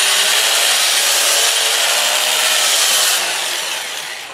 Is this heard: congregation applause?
no